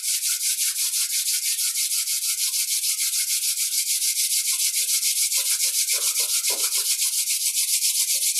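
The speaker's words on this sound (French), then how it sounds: "Puis on frotte nos mains l'une contre l'autre." Two palms rub briskly together in a steady, continuous back-and-forth swish, close and fairly loud, with a few slightly rougher strokes near the end.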